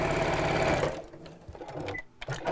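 A domestic sewing machine stitches rapidly in a steady mechanical whir for about a second, then stops, leaving soft handling clicks and rustles of fabric close by.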